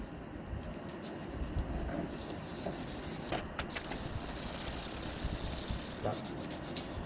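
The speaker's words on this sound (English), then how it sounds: "So we're going to use 1500 grit sandpaper together with some WD-40 and see what we can make out of it." A knife blade is sharpened on 1500 grit sandpaper lubricated with WD-40, giving a steady, close, gritty scraping that runs on in repeated strokes with no talking.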